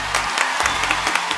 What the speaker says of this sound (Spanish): ¡Un aplauso para Arnalda!